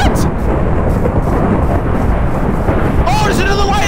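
Minecraft thunderstorm weather: steady loud rain-and-thunder rumble fills the whole stretch, with a voice talking over it near the end.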